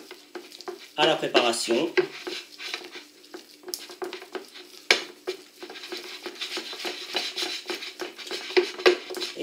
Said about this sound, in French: Et donc, on mélange le gruyère